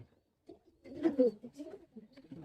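Pigeons feeding their young give soft, low cooing calls in short bursts, quiet and close, in an otherwise hushed setting.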